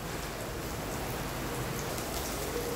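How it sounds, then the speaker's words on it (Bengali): Heavy downpour drums on a tin sheet roof, a dense unbroken patter of rain heard from indoors at a steady moderate level with no talking. "বাইরে হঠাৎ মুষলধারে বৃষ্টি নেমে আসলো সাডেনলি।"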